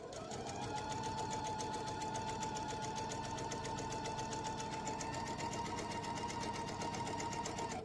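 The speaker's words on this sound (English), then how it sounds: "you want to keep your foot in the needle down position while you're sewing your seams" A sewing machine runs steadily while stitching quilt block seams, a fast even mechanical chatter that is close and continuous from start to finish with no voices.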